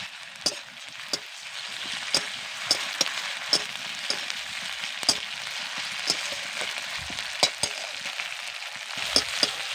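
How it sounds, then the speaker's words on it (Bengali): Ginger and garlic paste fry with softened onions in hot oil, a steady close sizzle broken by regular sharp scraping clicks of a spatula stirring the pan. "এবার আদা রসুনকে ভালো করে ভেজে নেব"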